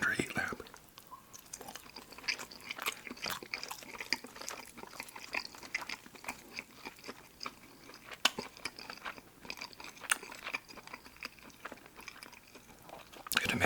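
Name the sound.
chewing crunchy fried chicken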